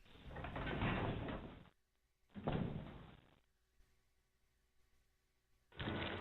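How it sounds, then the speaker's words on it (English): A door in the Resident Evil 0 video game closes with a few heavy, hissing mechanical bursts separated by quiet gaps, fairly faint and heard alone. "Or rather, wait for the door to close."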